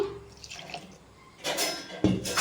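A little water is poured into rasabali batter, giving faint drips that build into a brief louder trickle and splash toward the end, with no voices.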